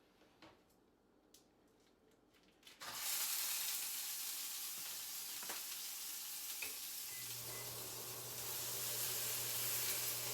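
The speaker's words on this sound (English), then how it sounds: "All right, we're gonna start browning the meat." Ground beef browns in a hot pan with a sudden loud sizzle that kicks in after a quiet start and then holds as a dense, continuous close-up hiss.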